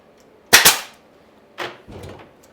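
A nail gun drives a nail into a wooden container planter: one loud, sharp close-up crack, followed by a couple of softer clunks.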